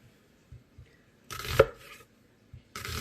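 A knife that needs sharpening slices a peeled onion thinly on a board: a few quiet taps, then two firm chopping bursts, close and isolated in a quiet room.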